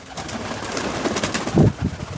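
Pigeons coo close by in a low, throaty series of rolling calls, with more birds and light rustling around them.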